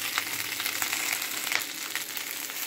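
Food simmering in a pan, giving a steady, close, hissing sizzle with light crackles and no voices.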